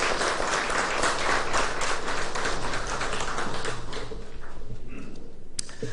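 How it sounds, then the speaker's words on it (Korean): An audience at a university chapel service gives warm applause to encourage international students. The crowd claps thickly and loudly at first, then thins and fades out near the end. "힘내시라고 우리 힘찬 격려의 박수 하겠습니다."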